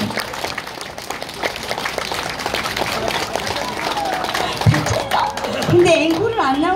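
Audience clapping at an indoor pumba performance, steady scattered claps under a loud talking voice, with a crowd murmur and a brief pitched voice near the end.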